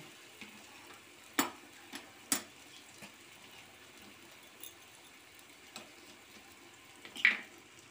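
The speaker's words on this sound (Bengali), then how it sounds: "পেঁয়াজটা যখন রং ধরেছে সেই পর্যায় পর্যন্ত আমি উলট পালট করে কষিয়ে নেব।" Onions and potatoes sauté in a pan for an egg dhokar dalna curry, a low steady sizzle broken by a few sharp clinks and scrapes of a spatula as they are stirred.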